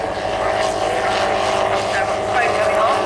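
Radio-controlled model airplane looping at an outdoor model air show, a steady engine drone holding throughout with a rising pitch sweep near the end, while a commentator talks over it.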